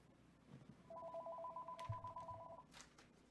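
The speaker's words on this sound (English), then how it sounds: "Oh, my phone's ringing." A phone rings with a single trilling electronic ring lasting under two seconds, at moderate level, with faint rustling and a soft voice nearby.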